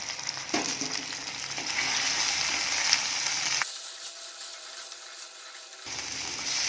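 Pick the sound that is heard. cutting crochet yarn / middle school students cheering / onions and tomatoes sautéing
onions and tomatoes sautéing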